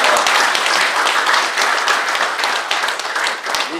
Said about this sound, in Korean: 모두 우리 사무총장에게 박수 한번 드리겠습니다.